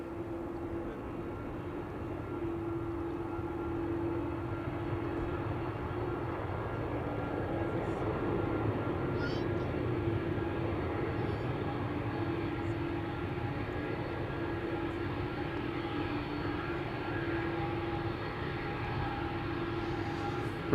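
A DHL Airbus A300-600 departs Schiphol airport, its jet engines a steady, continuous roar heard from a distance that holds at an even level for the whole stretch.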